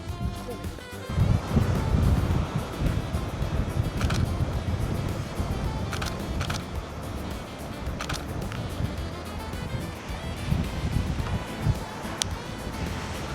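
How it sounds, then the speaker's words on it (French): Strong wind buffets the microphone on a coastal road during a bicycle trip, a loud fluctuating roar with gusts, faint surf in the background and a few short clicks. "Un petit peu de vent, non?"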